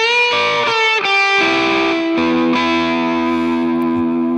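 Distorted electric guitar plays a short lick, one note sustaining and ringing while other notes are picked over it, with a smooth, effects-heavy tone.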